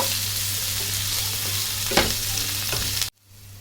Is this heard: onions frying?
yes